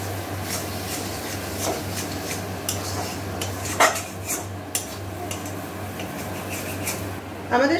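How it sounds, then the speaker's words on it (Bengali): A spice mixture with a little sugar being stirred and fried in a kadai, with rhythmic spatula scrapes and clinks over a faint sizzle and a steady low hum, and a couple of louder knocks. "এইবার এই সব উপকরণগুলো মিশিয়ে নিয়ে আর একটু ভালোভাবে কষিয়ে নেব।"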